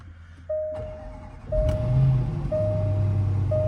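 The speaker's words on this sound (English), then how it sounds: "Oh yeah, started right up." A supercharged Range Rover fires up with a push-button start: the engine catches and settles into a low, steady idle while an electronic warning chime beeps at regular one-second intervals.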